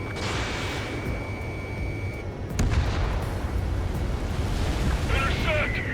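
Anti-aircraft gunfire in the video game Ace Combat 7: a steady, dense roar of rapid fire and rumble, with a sharp boom near the middle that leaves the barrage louder and heavier afterwards.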